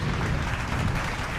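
Applause sound effect, a dense steady patter of many hands clapping at an even loudness throughout, with no voices over it.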